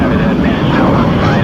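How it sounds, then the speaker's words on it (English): A loud, dense roar of American F-80 Shooting Star fighter jets taking off for a combat mission, steady and close, filling the whole short stretch without a break. "A group of American F-80 Shooting Star fighters take off for a combat mission"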